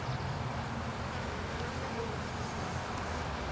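Healthy honeybees swarm around a hive colony, their dense, steady buzzing filling the air close by without a break.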